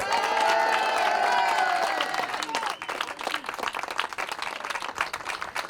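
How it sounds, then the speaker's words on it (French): A crowd claps and cheers for rally team members at a stage event in Rouen, the ovation loud at first with tonal sounds over the opening two seconds, then settling into thinner scattered clapping. "Applaudissements pour Snahan, Aileen et Soraya"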